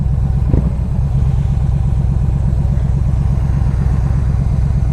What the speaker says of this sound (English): It's got the cool intake. You can hear it sucking.